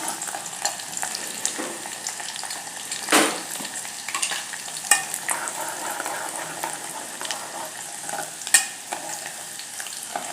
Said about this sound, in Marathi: तेल गरम झाल्यावर याच्यात घालूया कांदा. कांदा व्यवस्थित परतून घ्यायचा